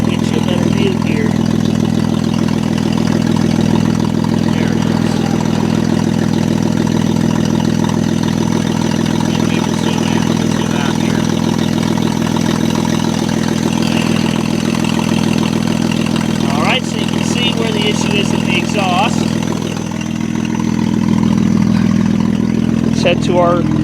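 A 2003 Saturn Vue AWD idles with a steady, low exhaust rumble continuously near the listener, with a few brief clicks and faint voices in the background.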